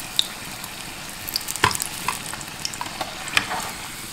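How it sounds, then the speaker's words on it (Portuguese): Doughless coxinha deep frying in hot oil, a continuous soft sizzle dotted with scattered pops and crackles, heard up close with no talking. "Aí aqui você vai fritar do jeito que você gosta."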